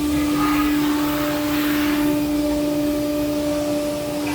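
An inline four-head welder fuses plastic window frames with heat plates on a factory floor, giving a loud, steady mechanical drone with a sustained tonal hum throughout and no speech.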